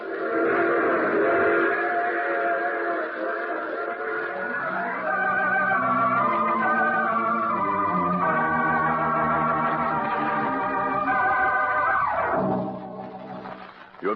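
A steam train whistle sounds as a radio drama effect, a long loud multi-tone wail holding for about twelve seconds before cutting off, with rumbling rail noise beneath.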